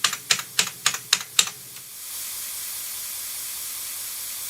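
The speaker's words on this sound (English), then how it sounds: "The clickety-clack sound of a buckling spring keyboard is one of the finest sounds ever made by God or man" Keys on a buckling spring keyboard clack sharply six times in an even rhythm, close and crisp, then stop, leaving a steady background hiss.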